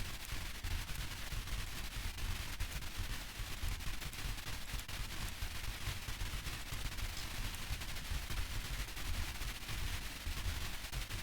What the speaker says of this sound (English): we can just keep shooting at it